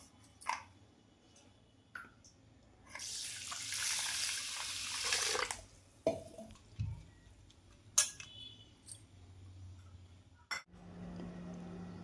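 Mixed dal and thick rice washed in water in a bowl: a burst of running water, then sloshing, swishing and a few clinks, close and fairly quiet.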